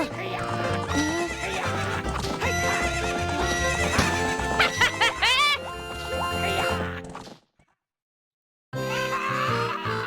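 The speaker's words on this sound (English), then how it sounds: "What's up with that horse?" Epona, the horse in the video game Zelda: Ocarina of Time, neighs and whinnies loudly with clip-clop hoofbeats, close and continuous, against game music before a short silence.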